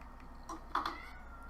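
A cat gives a short, faint meow, soft and somewhat distant, against quiet room background.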